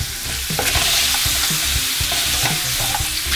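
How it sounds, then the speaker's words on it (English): Blackened shrimp in a hot pan sizzle loudly and steadily while a utensil stirs them, scraping and clacking against the metal in quick irregular strokes, close up with no voices. "Give that a little stir."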